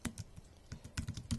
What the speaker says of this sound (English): for now, we'll just type the code here